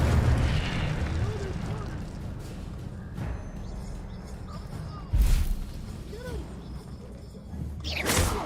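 A fiery Incendio spell blast goes off in the Hogwarts Legacy video game, a sharp burst with a rushing, roaring tail that stands out over steady game ambience and a rumbling background.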